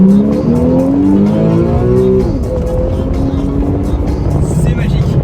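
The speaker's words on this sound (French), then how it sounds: "On a une voiture hyper performante et quand on accélère avec le mode Sport Plus," A Porsche 911 Carrera 4S with PDK gearbox accelerating hard in Sport Plus mode, its engine note climbing in pitch, dropping briefly at a shift, then rising again, loud and close throughout.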